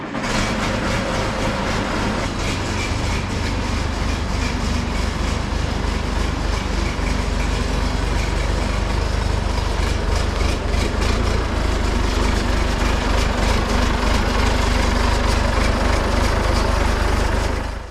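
A John Deere 2640 tractor engine runs continuously nearby, a loud steady low diesel rumble with a rough chugging texture and no speech.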